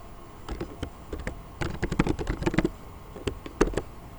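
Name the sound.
typing on a computer keyboard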